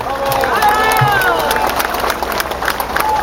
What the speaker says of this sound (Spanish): Un aplauso para los periodistas independientes.